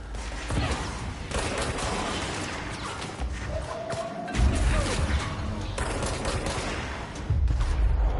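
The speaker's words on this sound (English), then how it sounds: "Who's shooting at me?" Gunfire in the game Control, with rapid automatic bursts and heavy impacts layered over a dense, loud mix that carries on through the whole stretch with a few louder thuds.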